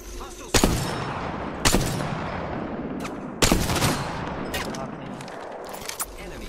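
Gunfire in the Apex Legends video game: sharp shots crack out near 0.5, 1.7 and 3.4 seconds, with fainter bursts later, over a steady background of game noise and ambience.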